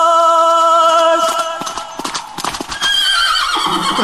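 A horse's hooves clip-clop close by and a loud neigh rings out, the whinny and hoofbeats overlapping in a short burst.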